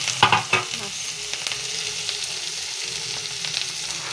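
A pan of lightly fried vegetables hisses steadily, opening with a few sharp spatula knocks against the metal and then settling into a soft, even sizzle with occasional faint scrapes.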